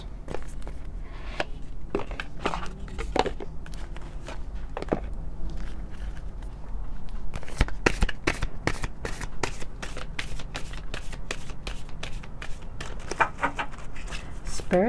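Moonology oracle cards being shuffled by hand, a run of crisp rapid riffling snaps and soft card slaps, close up and repeated in quick bursts with quiet talk in between.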